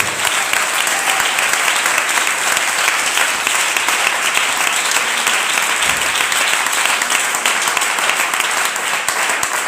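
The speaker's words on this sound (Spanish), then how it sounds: "Da un aplauso al Señor." A church congregation applauding in praise during a worship service in Valladolid, dense steady clapping filling the whole stretch at an even, loud level.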